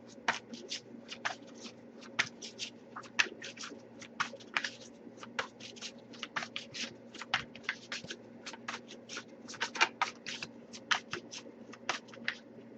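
Tarot cards are shuffled over and over, producing a long run of crisp riffling bursts and soft slaps at a steady, brisk pace over low hum.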